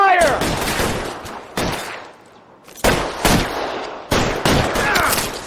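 Repeated bursts of gunfire in the video game L.A. Noire, loud sharp volleys recurring every second or so with echoing tails and a brief lull in the middle.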